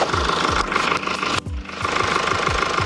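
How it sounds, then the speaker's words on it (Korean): A Mercedes-Benz large sedan's 220 diesel engine idles close by with a steady knocking clatter and rhythmic low thumps, a brief dip in the middle. "디젤 사운드 들어보시고"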